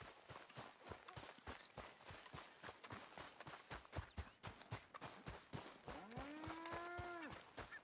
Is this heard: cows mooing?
yes